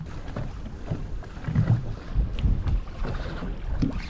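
Wind buffeting a small fishing boat on open saltwater, a low rumbling gusty roar that swells and fades close to the microphone, with faint water sounds.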